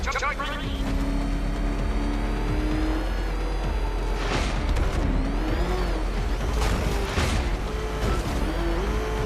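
The Batmobile in Batman: Arkham Knight speeds through a tunnel with a loud revving engine whose pitch rises and falls, plus whooshes and tire squeals, while a voice talks over it.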